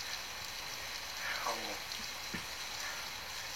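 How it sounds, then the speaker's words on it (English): Rain in the TV show Heartstopper, a faint, steady hiss of falling rain with a few soft tonal bits and brief low sounds mixed in. "The rain sound."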